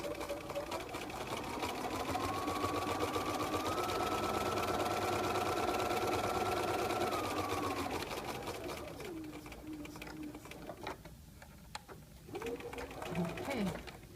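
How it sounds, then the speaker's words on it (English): Sewing machine running a second row of stitching on a fly front zipper, a steady close whir for about eight seconds that rises in pitch, then slows and fades into softer intermittent mechanical sounds. "Then I'm going to go ahead and sew a second row."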